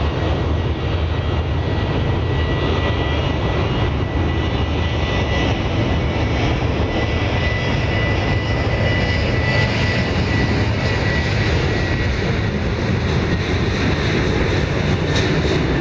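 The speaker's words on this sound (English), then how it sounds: "So this is flight 2689 to Tampa, Florida." Steady, loud jet airliner engine roar from a Boeing 737-800 on a flight to Tampa at Dallas Love Field, a continuous broadband rumble holding evenly with no voices over it.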